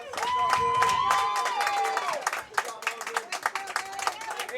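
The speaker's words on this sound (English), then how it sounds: "Woke up the CPA crowd." A CPA softball crowd claps and cheers after a hit, a burst of shouting followed by scattered applause, under a commentator's voice.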